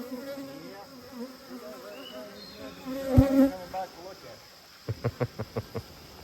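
Honeybees buzz steadily around a hive close by while a bee yard is set up, with faint murmuring voices in the background and a few short rhythmic tapping sounds toward the end.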